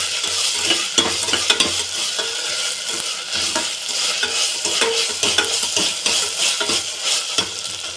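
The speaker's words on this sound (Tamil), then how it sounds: "இதிலேயே நாம் இஞ்சி பூண்டு விழுது சேர்த்துக்கலாம். அப்புறம் நல்லா கலக்கி வைக்கணும்." Ginger garlic paste fries in oil in a pan during plain biryani (kuska) cooking, with a spoon stirring and scraping in quick repeated strokes over a constant sizzle, no voices.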